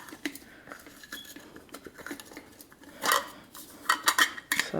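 A metal camping cook set is handled from a mesh bag, giving light clinks and rattles of pots and lid that grow louder in short bursts toward the end.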